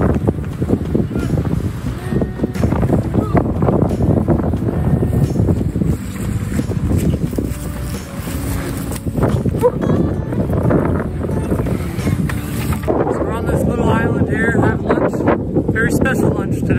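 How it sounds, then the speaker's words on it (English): Strong gusting wind roars across a lake on the last day of a canoe trip in Temagami, steady and loud with rumbling microphone buffeting throughout. "Getting windier."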